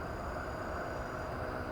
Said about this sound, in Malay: Tu motor, bukan hujan.